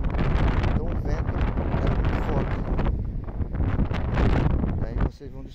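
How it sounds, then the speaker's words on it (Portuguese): Strong wind buffeting a microphone high above a hydroelectric dam on the São Francisco River, heavy continuous rumbling gusts that surge and dip, with someone talking loudly through much of it. "Mas o vento não vai deixar. Como nós estamos muito alto, pessoal. Então o vento."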